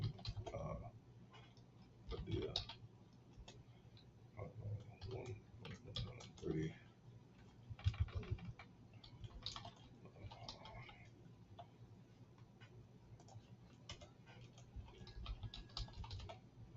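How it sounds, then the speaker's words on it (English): Keys clack on a computer keyboard as a trade order is entered, close, uneven bursts of typing with scattered clicks, while a voice talks quietly at times. "I'm gonna type this in real quick."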